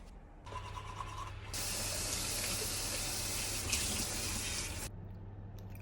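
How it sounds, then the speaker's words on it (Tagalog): Cold and then hot water pours into a glass, a steady gushing stream that starts modestly and then runs louder and fuller for several seconds before cutting off, with no talking. "May malamig na tubig at saka kalahating mainit."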